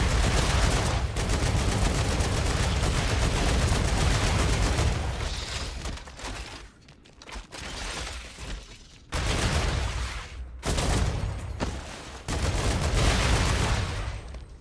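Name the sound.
gunfire in StarRupture video game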